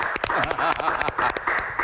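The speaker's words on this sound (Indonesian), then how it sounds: "Tepuk tangan dulu buat Prof. Adam" Indoor audience applause on a health talk show, a short burst of dense clapping that stays steady for about two seconds, with voices mixed in underneath.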